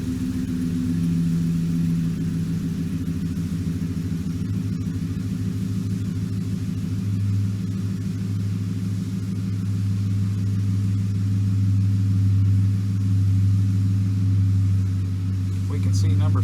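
A Ford F-150 engine idles with a cylinder misfire, a continuous low, close rumble with an uneven, stumbling pulse that holds steady throughout without revving.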